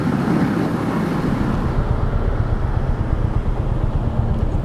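A 2023 Royal Enfield Hunter 350 motorcycle engine drones steadily while riding on the highway, a loud continuous rumble mixed with heavy wind rush and road noise.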